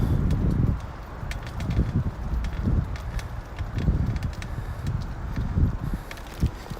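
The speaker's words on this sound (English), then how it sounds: "I know it sounds like the bike is falling apart, but that's just the seat mount." The seat mount of a bicycle rattles loosely while it is ridden, a steady stream of clattering and ticking over rumbling wind and road noise, close to the microphone and continuous throughout.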